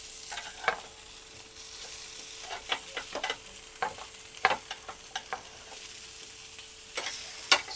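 Fish fries in a hot pan with a soft, even sizzle, while a spatula scrapes and taps the pan in scattered clicks over almost eight seconds, nobody talking.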